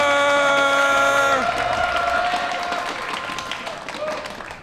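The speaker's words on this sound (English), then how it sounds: "So glad the awesome crowd came again. These guys have been cheered their hearts out yesterday." Live audience at a StarCraft 2 WCS America semifinal cheers and applauds, a broad roar of crowd noise and clapping that builds after a caster's sustained shout fades, then slowly subsides.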